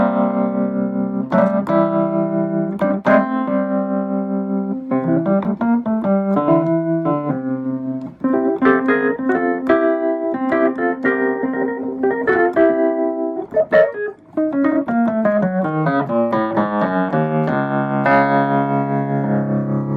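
A 1968 Wurlitzer 200 electric piano plays a continuous run of chords and melody notes, loud and close, with bright percussive attacks and no talking.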